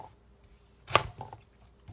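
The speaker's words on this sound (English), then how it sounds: "I'm just cutting these in half, cutting them into 1-inch slices" A knife cuts beets into 1-inch slices on a board, with one crisp close chop followed by a couple of softer taps in an otherwise quiet room.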